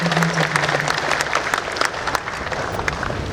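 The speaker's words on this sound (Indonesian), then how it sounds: "Sekali lagi tepuk tangan yang meriah untuk" An audience at an official gathering with the Jakarta deputy governor gives a lively round of applause, dense clapping sustained for a few seconds.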